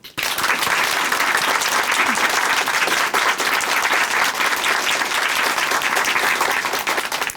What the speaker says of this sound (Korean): 다시 한번 응원의 박수 보내드릴게요.